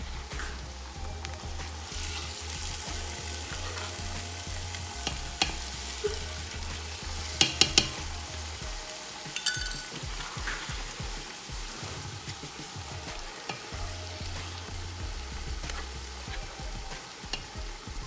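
Tomato and pepper fry in a pan for peppered beef and egg stew, a steady low sizzle running throughout with occasional stirring clicks and light spatter.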